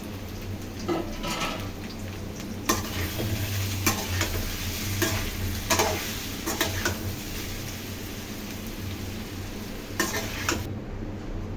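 Food frying in a pan as it is stirred, a steady sizzle with scraping spoon strokes and occasional sharper clinks of utensil on metal throughout, no voices.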